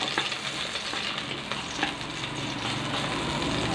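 Onion sizzling in a tablespoon of hot cooking oil at the start of a pork sinigang, a steady close frying hiss and crackle with faint stirring, no talking.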